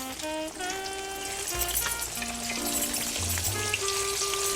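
Flour-dusted thin-cut pork chops frying in hot grease, a dense, steady close sizzle with crackling, under music with sustained tones.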